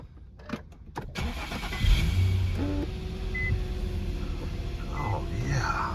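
A 2007 Infiniti M35 cranks briefly and fires, then settles into a steady, smooth idle heard from inside the car, with a faint chime over it.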